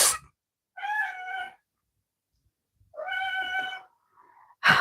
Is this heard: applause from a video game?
no